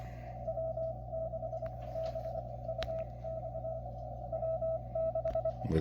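Morse code CW signal received on a Xiegu X6100 amateur radio near 14 MHz, a steady keyed tone pulsing in dots and dashes over a constant band hiss, fairly clear and alone without talk.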